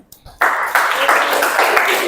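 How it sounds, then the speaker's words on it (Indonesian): A class of students clapping hands together, a sudden burst of dense, fairly loud applause that starts after a brief pause and carries on steadily, with no talk over it. "Bisa tepuk tangan semuanya."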